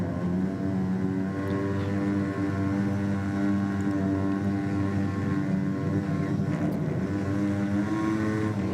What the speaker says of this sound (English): He's a bit of a burnout man.